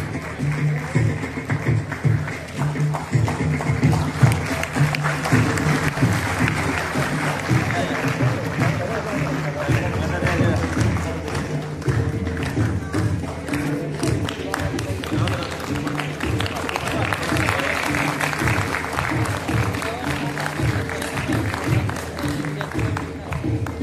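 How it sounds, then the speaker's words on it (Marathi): A crowd at a rally gives loud, sustained applause for a leader and his team, a continuous dense clatter of clapping lasting over twenty seconds, with a loudspeaker voice and background music running underneath. "एकदा जोरदार टाळ्या साहेबांसाठी आणि सर्व टीमसाठी सुद्धा."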